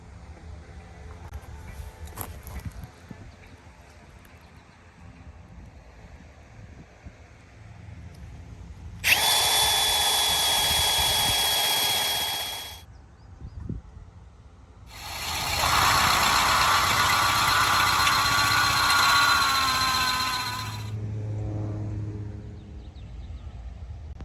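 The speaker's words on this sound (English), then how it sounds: "taking a break while the auger rests. It's overheating a little bit." Earth auger engine running in a farm greenhouse during tomato planting, overheating slightly; two loud bursts of steady high-pitched motor whine, the first about four seconds and the second about six, separated by a quiet pause with faint background sounds.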